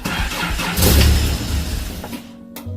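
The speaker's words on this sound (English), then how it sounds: "Let's see if she starts." A Toyota Celica GT project car with no windshield cranks and fires up nearby, the engine catching with a loud rumbling burst, then stumbling and dying down instead of settling into an idle.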